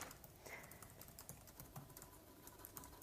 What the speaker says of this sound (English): typing is happening